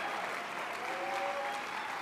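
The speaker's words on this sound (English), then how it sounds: "a round of applause." Steady, distant-sounding applause from a gala audience at a broadcasters' hall of fame event, an even wash of many hands clapping throughout, fairly faint and continuous.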